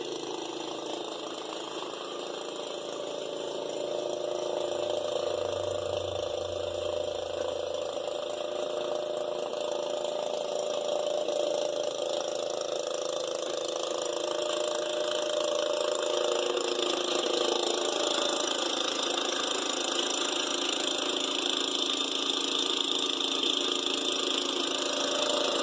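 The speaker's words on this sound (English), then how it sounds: "This is an old wheel horse garden tractor I picked up on a deal" An old Wheel Horse garden tractor engine runs steadily at a constant idle throughout, a continuous mid-pitched drone heard from nearby, with a brief low rumble early on.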